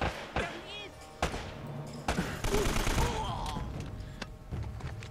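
Gunfire in Uncharted: Drake's Fortune, set in the Drowned City: several sharp, loud shots and bursts come at irregular intervals over a busy game background, with occasional voices.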